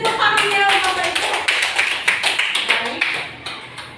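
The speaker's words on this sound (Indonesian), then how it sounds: "Beri tepuk tangannya Bapak Ibu." Clapping from teachers and parents at a school session, dense at first and then thinning into scattered individual claps as it fades, with voices audible underneath.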